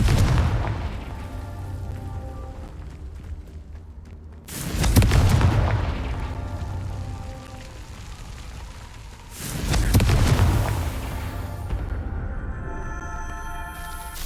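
A Confringo spell blasting in the video game Hogwarts Legacy, heard as two loud booming explosions about five seconds apart, each a broad rumbling burst that swells over a steady low game soundscape and slowly fades.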